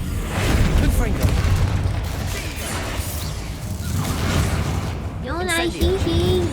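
Fire bursts from the Confringo spell in Hogwarts Legacy as loud booms and crashing blasts over a constant roar of combat, with a rising and falling magical whine near the end.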